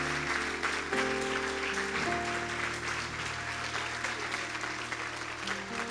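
A church congregation applauds, a steady wash of clapping, fairly faint, over a held background tone.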